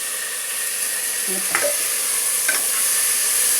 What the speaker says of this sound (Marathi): आणि आता 3 वेळा चांगले मूग धुवून घेतलेले होते ते मी या फोडणीमध्ये टाकलेले आहे